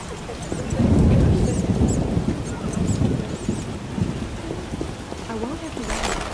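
Thunder rumbles through heavy rain in a Witcher game storm, a deep swelling roll early on over a steady hiss of rainfall and wind, with faint voices underneath.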